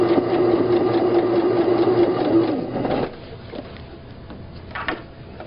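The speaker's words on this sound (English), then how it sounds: "So we're just going to start our stitch, keeping it nice and even." Sewing machine running a basting stitch, a steady close whir for about three seconds that then stops, leaving a quiet room with a couple of small clicks.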